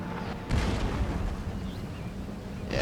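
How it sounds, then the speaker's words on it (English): Cannon fire in the strategy game Empire: Total War, aimed at French cavalry: a dense, rumbling battlefield din with one heavy boom near the start and more blasts rolling under a constant roar. "my cannons firing at the French cav in the main area"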